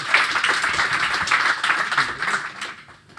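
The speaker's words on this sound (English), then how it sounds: "First round of applause." Audience applause at an event in Amsterdam, steady dense clapping from a crowd, moderately loud and sustained before tapering off near the end.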